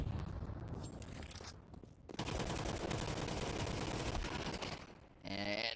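Automatic rifle fire sprays in rapid sustained bursts during a competitive online Counter-Strike esports match, dense and loud with brief gaps between volleys, mixed with game sounds and light commentary.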